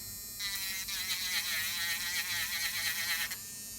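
AIRSEE cordless nail drill set to forward at 30,000 RPM whirs into a high, steady buzz after a short pause, holds it for about three seconds, then cuts off, close and alone.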